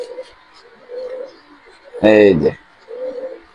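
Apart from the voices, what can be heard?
racing pigeons cooing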